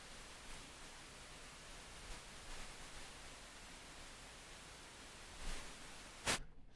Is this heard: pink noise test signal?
yes